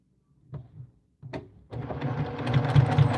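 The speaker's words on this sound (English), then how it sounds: "now I'm going to sew from on that line that I just drew" Sewing machine stitching darts into a fabric bowl cozy, with two short bursts and then a steady, close, continuous run of stitching that grows louder toward the end.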